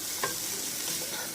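Onion masala frying in a pan for a mixed vegetable curry, a steady soft sizzle with a few stirring scrapes near the start, heard alone with no talk.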